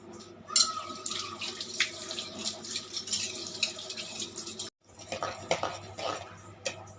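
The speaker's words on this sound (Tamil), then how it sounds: "மூழ்கிற அளவு தண்ணி ஊற்றி கரைச்சிக்கலாம்" Water pours and splashes over jaggery in a container close by to dissolve it for sakkarai pongal, with clinks of metal utensils, a brief pause, then more trickling and clatter.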